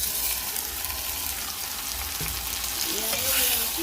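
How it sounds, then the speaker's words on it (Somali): Tomatoes hit frying onions in a pot for a Somali chicken dish, producing a loud, continuous close-up sizzle with light stirring and a rising hiss near the end. "basasha way noo kartay, waxaan ku shubaynaa yaanyadii"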